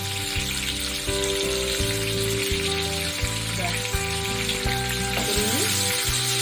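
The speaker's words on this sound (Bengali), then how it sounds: "সামান্য একটু হলুদ, একটু নুন দিয়ে ভাজবো।" Steady crackling sizzle of catla fish pieces, seasoned with turmeric and salt, frying in hot oil close by, with faint clinks and a low background hum running throughout.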